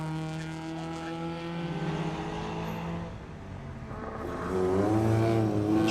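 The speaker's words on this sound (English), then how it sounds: "as Sir Andrew McAlpine and Andrew Merrifield in their classic Mini, hustling it around the Cheshire countryside. That is sweet. Listen to it go" Engine of a classic Mini rally car racing on a circuit rally stage at Oulton Park, droning in steady harmonic tones that dip slightly, then rise as it revs harder and draws nearer toward the end.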